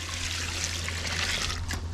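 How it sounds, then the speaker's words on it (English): Water trickles steadily into a pot of walnuts being readied for dyeing linen outdoors in winter, a continuous close pour with a low hum beneath it. "So what we do is we're going to fill this with water."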